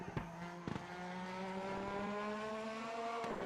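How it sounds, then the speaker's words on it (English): A race car engine in the racing game RaceRoom hums with a steady, buzzing drone that climbs slowly in pitch, broken by a few short throttle blips and clicks through the corners; fairly quiet overall. "And I just blip the throttle a little bit when I'm going through those corners just to make sure I keep my momentum"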